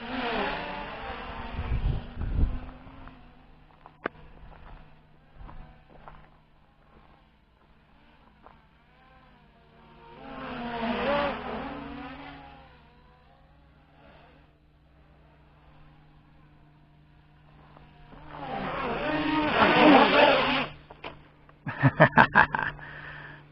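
An MJX Bugs3 quadcopter drone flies a couple of loops, its rotors rising to a loud whirring buzz in three swelling passes as it nears and then fading back between them, with a sharper burst of noise at the very end.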